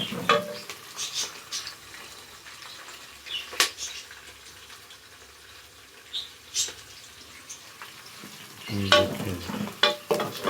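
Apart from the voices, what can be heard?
onions frying and browning in a pan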